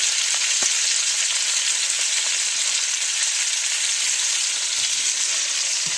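Squirrel meat frying in a pan over heat, a steady dense sizzle with crackling oil holding constant and fairly loud for the whole stretch, with no voices.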